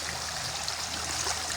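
Water in a shallow stream rushes and trickles steadily close by, an even, unbroken babble with no voices.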